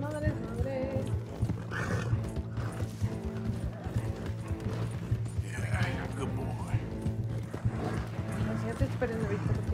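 A horse in Red Dead Redemption 2 snorts and whinnies amid steady hoof clops and creaking tack, sounding close and continuous for several seconds, with a voice talking over it.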